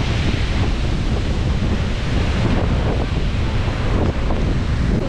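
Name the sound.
strong wind on a beach during a storm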